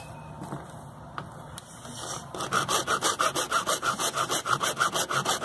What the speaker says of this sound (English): I don't know why the Lord told me to buy this hacksaw the other day.